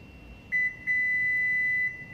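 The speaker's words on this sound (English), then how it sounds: "Press and hold it, and you'll hear a beep" A Subaru power tailgate button gives a short electronic beep, then a longer sustained beep tone, clear and close against a quiet background.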